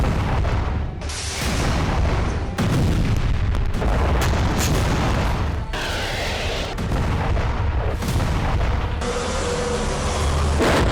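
Heavy explosions and booming blasts from a bombing raid in wartime Kharkiv roll on continuously and loudly, with dense rumbling bursts and sharp breaks between them.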